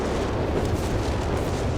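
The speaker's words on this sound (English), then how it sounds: "Big explosion there being knocked out." Big, loud explosion in the Company of Heroes 3 strategy game after 28/32cm rocket artillery strikes, a dense roaring blast with sustained rumbling debris throughout.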